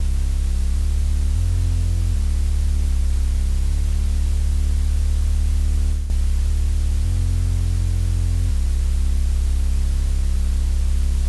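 Polyvox synth playing a low triangle wave with white noise mixed in, pushed through a Gamechanger Audio Plasma Coil distortion pedal; a loud, buzzing, gritty drone with shifting low notes and a hiss on top, with no talking.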